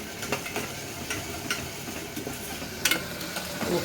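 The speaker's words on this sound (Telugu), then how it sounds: "పచ్చివాసన పోయేంత వరకు ఫ్రై చేయాలండి" Onions, green chillies, coriander and mint frying in a pan for Nawabi chicken bagara rice, a steady close sizzle broken by light stirring clicks and scrapes, with no voices.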